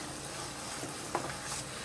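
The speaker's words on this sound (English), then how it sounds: "But the rice is frying." Rice fries in a pot with a steady, soft sizzle and a faint scrape of stirring partway through, close and continuous with no talk over it.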